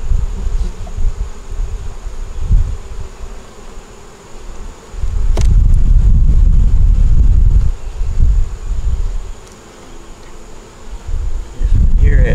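Honey bees drone and buzz around an open hive that is filling with honey, a continuous close insect hum mixed with gusts of wind buffeting the microphone.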